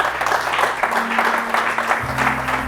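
Church congregation clapping to acclaim the Lord during a pastor's sermon, a dense steady burst of applause filling a large room under a sustained low hum.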